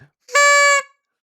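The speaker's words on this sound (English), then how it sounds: "Have we had this many honks in one episode before?" A single short, bright honk from a car horn, loud and clear, lasting about half a second against silence.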